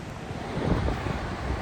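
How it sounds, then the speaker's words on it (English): Ocean waves and wind at the shore: a soft, continuous low rumble of surf mixed with wind noise on the microphone, fairly faint and with no voices. "as you can see, I'm right across from the ocean"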